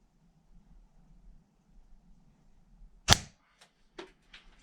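An airsoft gun fires a 6mm steel ball bearing with one sharp, loud crack and a few quick impact ticks after it, set against a quiet low hum.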